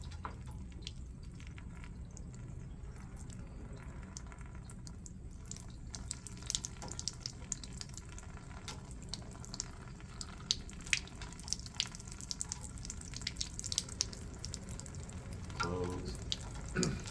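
Water trickles and splashes steadily from the opened test cocks of a backflow preventer, a quiet continuous flow with faint drips and hiss and no voices.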